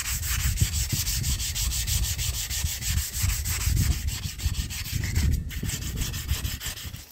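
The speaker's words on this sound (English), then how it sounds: "I'm going to move on to 320. Come up another one. Sand the whole rim again." Hand sanding a wheel rim with 320-grit sandpaper during a budget wheel restoration gives steady, rhythmic rubbing strokes that run close and continuous for several seconds, with no talking.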